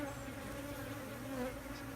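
A honeybee swarm buzzes inside a swarm trap on a farm, a dense, continuous drone of many wings heard up close and fairly faint, steady and without pauses.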